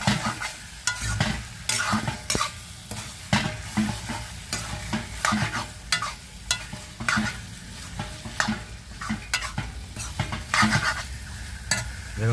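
Chicken with spices sizzles in a pan while being stirred one-handed, with a steady frying hiss under repeated sharp scrapes and clinks of the utensil against the metal, close and busy, with no talking.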